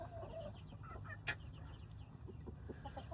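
Mille Fleur bantam chickens cluck softly and intermittently on a small farm, fairly faint against a steady background hum, with one brief sharper note standing out.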